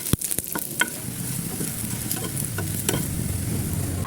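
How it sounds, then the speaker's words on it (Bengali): Garlic cloves and dried chillies fry in hot oil with a steady, close sizzle and a few sharp pops and spatters near the start, no voices. "কয়েক কোয়া রসুন আর কয়েকটা শুকনো মরিচও তেলে ভেজে নেব"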